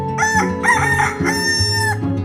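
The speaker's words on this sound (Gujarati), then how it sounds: "કકુ કુકડો." A rooster crows in a long, drawn-out cock-a-doodle-doo that rises and holds, loud and close, over a steady low background.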